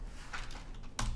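A few quick, quiet keystrokes on a computer keyboard, close by, with a slightly firmer tap near the end.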